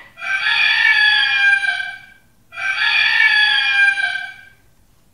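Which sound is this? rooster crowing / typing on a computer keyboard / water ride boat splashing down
rooster crowing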